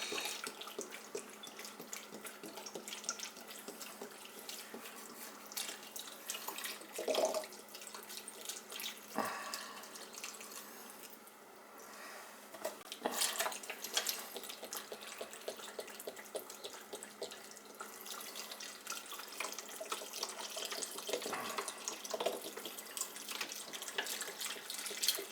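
Water runs steadily from a tap into a crockpot holding beef broth and garlic, a fairly quiet, continuous pour with a few brief splashes and no talk.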